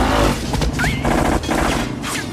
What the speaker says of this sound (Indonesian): yang dihujani tembakan dari atas helikopter